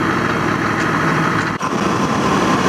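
A passing Porsche's engine hums steadily and loudly nearby with a constant broadband drone and a brief dip midway, and no one talks over it.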